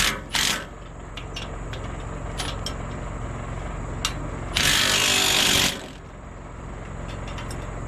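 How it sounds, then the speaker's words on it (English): Bolts being tightened on a trailer disc brake conversion with a power tool: a short opening burst, then a longer loud whirring run of about a second, between a few faint clicks and steady background hum. "Snug them all up first before I go to tighten them down."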